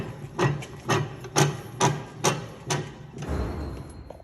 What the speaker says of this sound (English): All I have to do is bring it over here and put it in the vise.